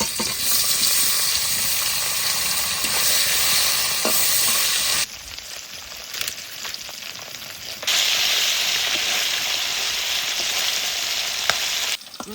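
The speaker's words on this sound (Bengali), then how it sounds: "মাছে লবণ হলুদ মাখিয়ে নিয়েছি, তেলও গরম হয়ে গেছে, এবার ভেজে নেব" Fish coated in salt and turmeric fries in hot mustard oil in a pan, giving a steady loud sizzle throughout with a brief dip and shifting spatter midway.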